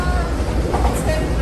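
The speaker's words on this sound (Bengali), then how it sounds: "কেমন লাগছে তোমার ফ্লোরিডা ট্রেনে চড়ে?" Riding a train in Florida, the interior fills with a loud, continuous low rumble of the carriage in motion, steady and close throughout a brief stretch.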